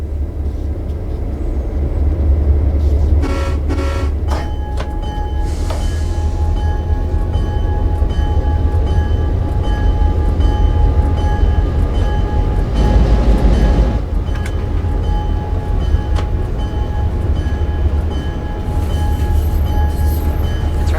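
An F7 diesel locomotive in a Clinchfield train simulator pulls away slowly, its engine drone steady and loud, with rail clatter, a pulse of power partway through and a bell ringing over it.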